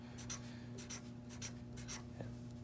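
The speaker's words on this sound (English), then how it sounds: "So we just want to trace." A pen or marker traces over a drawing, making soft repeated scratchy strokes in short bursts, close and quiet over a steady low hum, with no talking.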